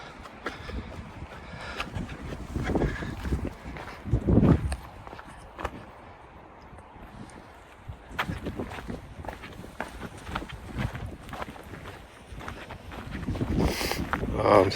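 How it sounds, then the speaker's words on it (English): Gusty wind on the Watchman Trail in Zion National Park buffets the microphone in rising and falling swells, loudest near the start and end, with crunching footsteps on the trail underneath. "Here comes that wind."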